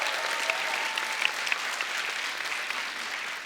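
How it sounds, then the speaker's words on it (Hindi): A studio audience at a comedy show applauds for Ritika Bajaj, a steady, dense wash of clapping that holds evenly throughout, with no voices over it. "इनके लिए भी जोरदार तालियां"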